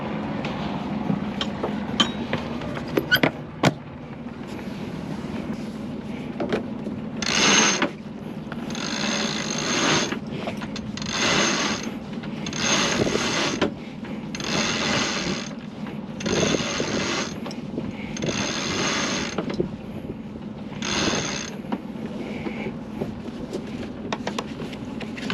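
On a sailboat, a sail is unfurled as lines run through pulleys, producing a long series of ratcheting, whirring bursts that start and stop in a steady rhythm, close by and fairly loud, with no talking.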